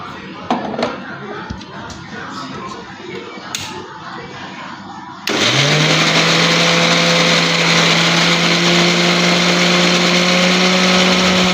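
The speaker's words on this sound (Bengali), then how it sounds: "একটু ঠান্ডা হয়ে গেলে তারপরে মিক্সিতে দিয়ে বাটতে হবে" A kitchen mixer grinder starts abruptly and runs loud and steady, whirring as it grinds cooled snake gourd peels into a paste, after a stretch of quiet clinks and handling noises.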